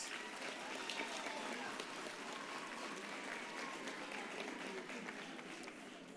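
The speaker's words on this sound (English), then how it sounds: "Clap a big round of applause for your kind selves." Graduates clap for themselves at a university graduation ceremony, a broad wash of crowd applause that stays steady and even for the whole stretch, heard from a distance and fairly quiet.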